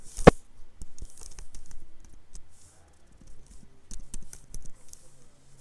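Typing on a computer keyboard, with irregular clusters of light clicks and key taps and brief pauses between them, close and fairly quiet.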